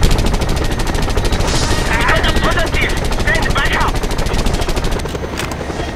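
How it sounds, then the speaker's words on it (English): Rapid automatic gunfire from a weapon in the video game Just Cause 2 rattles loud and continuous for several seconds, with a voice speaking over it. "Pull out my other gun!"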